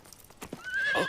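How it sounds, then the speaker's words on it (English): A horse in a Chinese historical drama clops its hooves a few times, then lets out a rising, shrill neigh that swells loud and close toward the end. "Why is the horse acting like that?"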